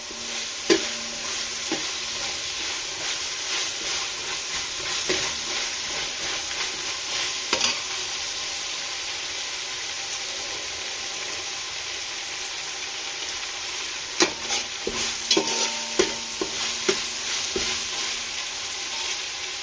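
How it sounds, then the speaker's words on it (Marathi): Masala for egg dum biryani frying in a pan gives a continuous close sizzle, broken by repeated scraping and tapping as a spoon stirs it. "याला 1-2 मिनटं चांगलं असं परतून घ्यायचं."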